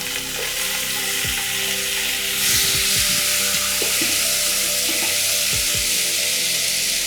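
Urid dal and sorrel leaves fry in hot oil for fried rice, giving a loud, steady close sizzle that swells when the leaves go in, with occasional stirring scrapes.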